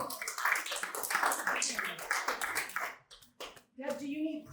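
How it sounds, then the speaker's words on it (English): Audience applause for a comedian named Deb at a comedy class, a dense burst of clapping from the crowd that fades out after about three seconds, followed by talk. "put your hands together for Deb!"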